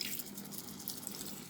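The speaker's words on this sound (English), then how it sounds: "I'm just gonna tip a little bit of water" A little water tipped into a cooking pot of simmering paprika chicken quarters, a soft steady pouring and splashing hiss, close and quiet with no voices.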